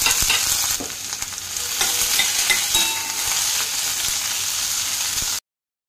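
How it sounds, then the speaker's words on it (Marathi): A ground masala for chicken sukka sautés in a little oil and gives off a close, steady sizzle, with scraping stirs now and then. The sound cuts off abruptly. "थोडंसं तेल ॲड करणार आहे आणि त्याच्यात हा सगळा मसाला जो आहे तो परतून घेणार आहे"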